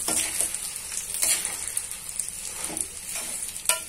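Sesame seeds and chivda fry in hot oil for a Sankrant snack, a steady close sizzle broken by soft stirring scrapes and a few sharper ladle taps.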